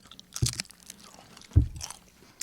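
A bacon-topped sweet and savory snack crunched between the teeth, two distinct close bites about a second apart followed by softer chewing in a quiet setting.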